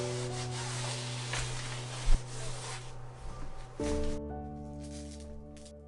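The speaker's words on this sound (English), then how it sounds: "Just gonna wipe down the edge real quick with some alcohol to make sure that there's no" A cloth soaked in alcohol wipes along the edge of a surfboard, soft close rubbing strokes in short passes with a brief knock partway through, no voices.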